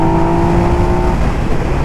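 A Yamaha MT-09 three-cylinder motorcycle exhaust, a loud, close, continuous engine drone held at steady revs, with no talking.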